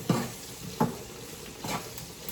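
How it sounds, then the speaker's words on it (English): Jackfruit stew with thyme being stirred in a pan, three soft scraping strokes of a spoon over a low simmering sizzle, close by, no talking. "So we're gonna give this a good stir around"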